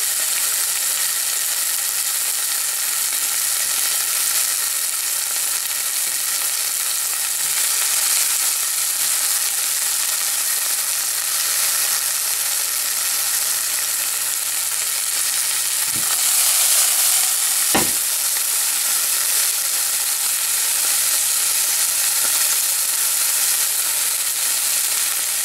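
Green chilies fry in a pan of hot oil while making Surti papadi dana, a steady loud sizzle running throughout, broken by a couple of sharp scraping stirs near the end.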